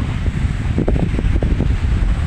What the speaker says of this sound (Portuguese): Agora a gente aqui já tem muito vento, ó, porque nós estamos na praia.